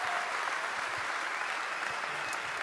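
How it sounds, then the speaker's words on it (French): A crowd applauds at the Vendée Globe 2017 awards ceremony, honouring the skippers. The steady, full clapping continues throughout, with a faint voice underneath. "Je voudrais qu'on applaudisse à nouveau Arnaud Boissière"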